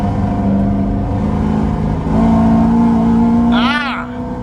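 A procharged 2016 Corvette Z51 3LT engine pulling hard in fifth gear on a test drive, a loud, sustained droning roar heard from inside the car that rises partway through, with a brief voice near the end.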